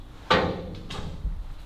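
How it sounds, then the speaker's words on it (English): A solid thump of the lifting back door of a 1942 Cadillac Fleetwood shifting, then a softer knock and a low clunk, close by with no talking. "Back door lifts."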